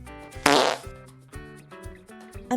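A long, buzzy cartoon fart sound effect blasts out loudly in a children's storybook animation, then carries on as a quieter sputter over a light musical backing.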